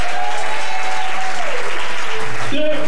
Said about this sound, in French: acclame très fort Jésus